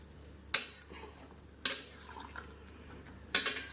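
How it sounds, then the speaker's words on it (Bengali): Dishes and utensils scrubbed and washed, three loud metallic clatters of pots and cutlery over a low background of quieter handling. "চলো এই কটা বাসন আছে মেজে"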